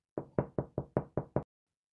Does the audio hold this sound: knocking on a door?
yes